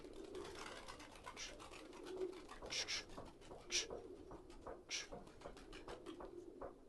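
A large flock of pigeons in a Kokand loft cooing softly and continuously, with scattered sharper flutters and wing claps rising now and then above the quiet murmur.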